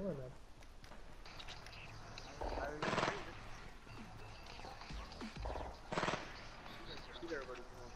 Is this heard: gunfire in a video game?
yes